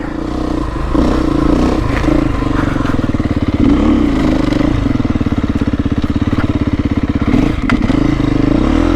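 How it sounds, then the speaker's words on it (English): Beta 350 motorcycle engine lugging close to stalling at very low speed in fourth gear, a loud, uneven low throb with chugging pulses and some clatter throughout. "almost stalled there. I was in fourth gear going that slow."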